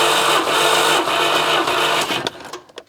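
A Żuk engine cranks over on the starter during a compression test, with a steady, loud mechanical whirring churn that runs close and unbroken before tapering off into a few uneven knocks at the end.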